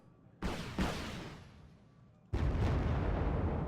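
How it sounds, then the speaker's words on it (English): Heavy artillery fire in the strategy game Wargame: Red Dragon: two sharp booming blasts close together with a long rumbling tail, then a third loud blast that keeps rolling, no talk. "so there's artillery we haven't accounted for"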